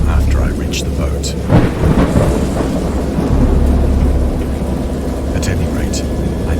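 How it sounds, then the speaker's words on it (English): Thunder rumbles deeply through steady rain, with a louder crack and roll partway through and sharp drips or taps scattered above it. "I heard bells of thunder and other tones which nature utters only in her wildest moods"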